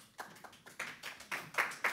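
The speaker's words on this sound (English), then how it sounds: "feel free to applaud" Scattered hand claps from a small audience at a demonstration, a handful of separate sharp claps spaced irregularly, fairly faint and distant, no voices over them.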